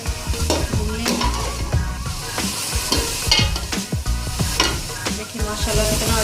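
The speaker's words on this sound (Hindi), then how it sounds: "दही शामिल करने के बाद इसको अच्छी तरह से भून लेंगे।" Aloo qeema with yogurt fried in a pot, a spoon scraping and stirring rhythmically while oil sizzles steadily underneath, close and continuous with no voices.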